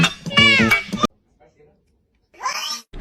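A pet cat gives a loud, drawn-out meow close by, then a short quiet gap before a second shorter meow.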